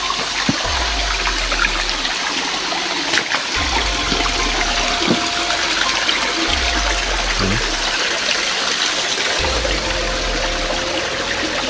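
Water flows steadily through a small river in dense, overgrown terrain, a constant gurgling wash with trickling detail and a few deeper low thumps, close and unbroken, no voices.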